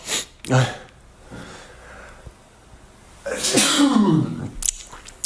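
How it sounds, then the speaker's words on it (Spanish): A single sharp sneeze, close and loud, among throat clearing and breathing, with a fan running in the background. "Tercer estornudo, qué guay."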